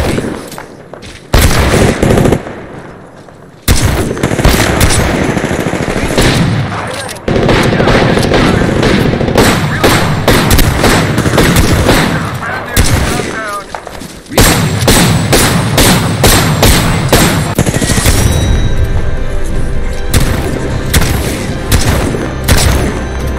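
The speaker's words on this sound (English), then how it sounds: "Enemies are shooting at me." Rapid automatic gunfire from enemies in the battle royale game Apex Legends, loud and dense bursts crackling almost continuously with heavy thumps and booms, briefly dropping out twice before resuming.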